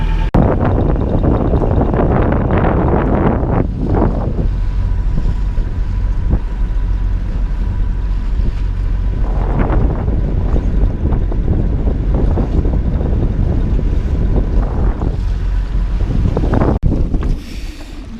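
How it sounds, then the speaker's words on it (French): Strong wind buffets the microphone while a boat sails into a headwind of about ten knots on the Gambia River, a loud continuous roar with rushing gusts swelling and easing throughout, no voices. "il y a une dizaine de nœuds de vent de face"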